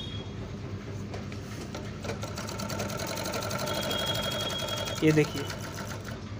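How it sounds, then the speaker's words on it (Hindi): Overlock interlock sewing machine stitching with a steady fast mechanical whir, close and continuous, while someone talks over it. "अब हम सिलाई मार के देखते हैं।"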